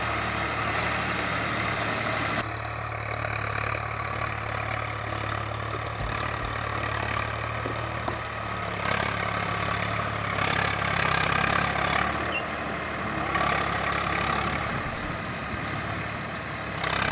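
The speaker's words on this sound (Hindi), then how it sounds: "और एक ट्रैक्टर वहाँ चल रहा है सामने।" A tractor engine drones steadily at a distance while ploughing a hill field, under outdoor background noise, with no talking.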